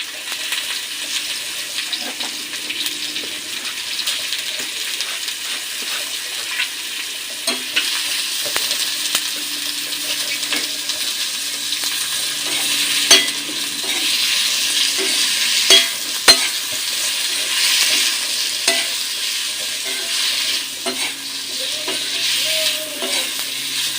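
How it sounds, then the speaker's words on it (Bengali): Food sizzles steadily in a hot pan while a utensil stirs it, giving a constant bright hiss broken by scraping clicks and knocks, close up and with no talking. "ভালো করে ভাজা হোক।"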